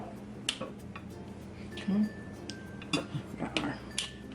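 Crab boil food is plated at home, with soft clinks of dishes and utensils, a few light taps and scrapes, and quiet talk in the background.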